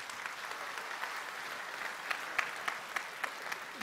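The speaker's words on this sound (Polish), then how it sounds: "No proszę o brawa." An audience at an awards ceremony applauds a winner with a steady, moderate wash of clapping, a few sharper individual claps standing out toward the end.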